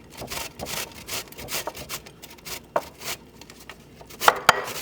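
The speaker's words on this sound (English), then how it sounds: "we're just going to grate half a zucchini" Half a zucchini grated by hand on a box grater, a close, rapid series of rough rasping strokes in an uneven rhythm with a few sharper scrapes, no talking.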